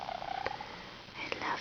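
A cat purrs softly and steadily at close range, a low continuous rumble with a couple of brief brighter chirps laid over it and no talking.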